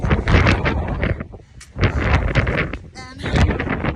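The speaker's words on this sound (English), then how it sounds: "It's extremely windy" Strong wind buffets the microphone outdoors on the Aran Islands off Galway, loud gusty roaring rumble in surges, dropping briefly midway before blowing hard again.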